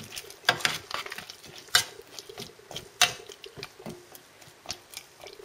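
Potatoes being stirred into beans with tomato sauce in a pot, close up: irregular scraping and soft wet thumps with a few sharper knocks of the spoon against the pot.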